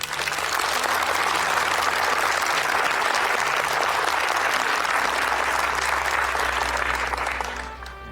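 A warm round of applause for a fellow soldier from new army recruits gathered at a training camp, loud sustained clapping from a large group that tapers off at the very end.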